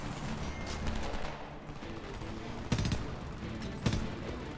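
Two sharp, separated gunshots ring out in the online shooter Homefront, the second about a second after the first, over a steady wash of battlefield game noise.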